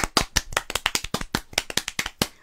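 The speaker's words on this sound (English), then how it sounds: "Round of applause." Sparse, uneven handclaps from a small group during an online show, a dozen or so distinct claps in a loose irregular rhythm, close and fairly loud.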